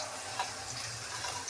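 Rice and lentils for khichuri pour into hot water in a cooking pot, giving a short, continuous watery splash and hiss at close range with no talk.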